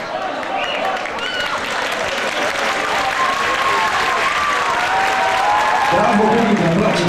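A music contest audience applauds in a dense, sustained wave of clapping that holds steady and swells slightly toward the end, with crowd noise and a few voices mixed in.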